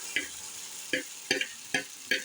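Batter spread into a hot oiled pan for a breakfast dish, with a faint steady sizzle under five or six sharp clinks and taps of a spoon working the batter, evenly spaced and close, no talking.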